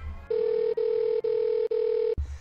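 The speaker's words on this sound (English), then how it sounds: "the shoe phone, which starts ringing in the middle of a concert" The shoe phone from the Get Smart TV series rings close and loud as four steady, even electronic tone bursts with short gaps, then stops abruptly.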